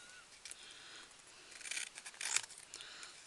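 Scissors trimming a paper craft piece straight for a small Christmas house: a few soft, close snips and paper rustles, quiet and brief, with no talk.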